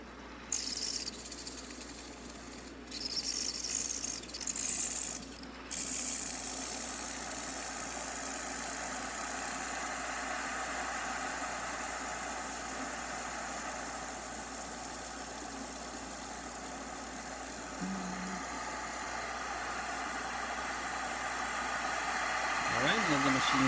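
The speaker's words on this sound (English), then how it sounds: "It's gonna take a little bit for the steamer to build up some pressure" A Breville espresso machine with a new solenoid valve and water pump hums and hisses steadily while its steamer builds pressure. The hiss grows slightly stronger toward the end, with a voice audible briefly at the start.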